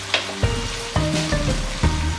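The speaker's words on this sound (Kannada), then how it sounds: "ಮೀಡಿಯಮ್ ಫ್ಲೇಮಲ್ಲೇ ಇದನ್ನು ಫ್ರೈ ಮಾಡ್ಕೋಬೇಕು." Spices frying in oil over a medium flame for vangibath, a steady close sizzle with a few sharp stirring knocks spaced through it, no voices.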